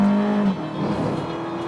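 A Volkswagen Vento race car in the Vento Cup drives through a chicane, its engine droning steadily before the tone drops as it lifts off, then holds a lower, rougher hum close by.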